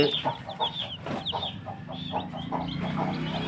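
A mother hen clucks steadily in short repeated calls while her newly hatched chicks cheep in high thin bursts around her, close and continuous.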